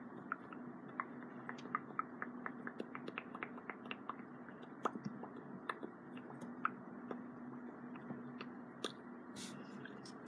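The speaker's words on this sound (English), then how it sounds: "We're just gonna do a quick minute to two of mouth sounds" Close, quiet ASMR mouth sounds: rapid wet clicks, smacks and soft tongue pops repeat irregularly over a low hum, with no speech.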